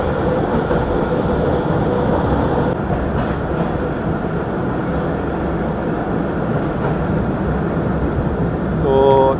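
Marvi Passenger train rolling across the Thar Desert, a steady loud rumble of wheels and carriages with faint clatter throughout, slightly swelling near the end.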